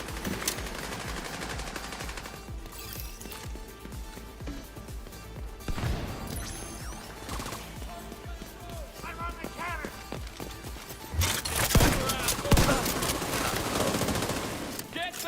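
Gunfire in The Division 2, with shotgun blasts among rapid automatic fire, footsteps and crashes during a chaotic firefight, loud and continuous, with a person talking over the action.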